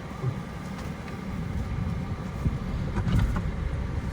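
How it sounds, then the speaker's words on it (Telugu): A Maruti Brezza car pulls away slowly as the clutch is released, a low steady engine rumble and road noise throughout, heard from inside with no speech. "తీసుకోండి స్లోగా, క్లచ్ వదిలే కొద్దీ బండి వెళ్ళిపోతూ ఉంటుంది"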